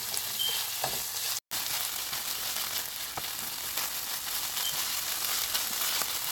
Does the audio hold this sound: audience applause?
no